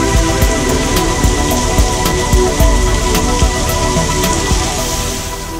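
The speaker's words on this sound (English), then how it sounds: "watch this rain water my grass. Well, we've got some 40 mile an hour, maybe 50 mile an hour gusts happening right now." Heavy rain pounds down steadily during Hurricane Delta, with 40 to 50 mph wind gusts roaring loud and close, the downpour a constant hiss with repeated sharp spattering hits throughout.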